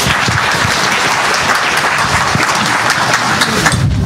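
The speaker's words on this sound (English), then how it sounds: "Let's applaud Daniel Berrange" A conference crowd at FOSDEM 2014 applauds a speaker loudly and continuously, a dense wash of clapping that holds steady throughout.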